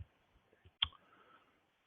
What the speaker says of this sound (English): So I'm just going to click on text box